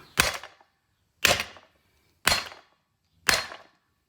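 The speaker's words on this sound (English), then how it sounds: "I got the bearing out by just hammering it out." Four evenly spaced, sharp metallic hammer blows ring out about a second apart as a wheel bearing is driven out of a Prius steering knuckle, each strike decaying quickly into silence.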